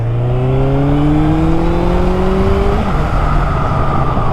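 A warmed-up Honda CB1100 motorcycle engine revs up in rising sweeps, pitch climbing steadily through two pulls before settling into a loud, close, steady idle-like drone.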